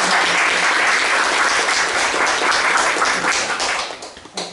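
An audience at a policy forum on day-care facilities for people with disabilities applauds to welcome a speaker, a dense, steady roar of clapping that tapers off near the end.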